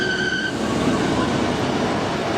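A train runs on the Tamar Valley branch line in Cornwall. It makes a loud, close, steady rumble, with a brief wheel squeal at the start.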